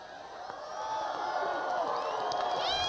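Crowd of thousands gathered outdoors at Gobbler's Knob for Groundhog Day, a broad wash of cheering and shouting that swells and holds steady, with a voice talking over it.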